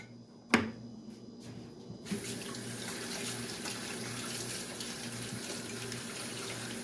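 Kitchen tools are washed under a running tap after making a tuna sandwich: a sharp click, then the faucet opens into a steady, close rush of water that continues to the end.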